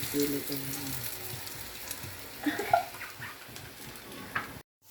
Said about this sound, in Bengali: এক এক করে আমার ভাতিজা সবগুলো পেঁয়াজুর ডো তেলের মধ্যে দিয়ে দিছে